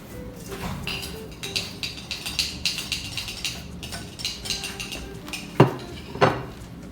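Spaghetti squash carbonara with bacon being folded and mixed in a pot, a steady run of close clinks and scrapes of a utensil against the cookware, with two sharper knocks near the end and no talking.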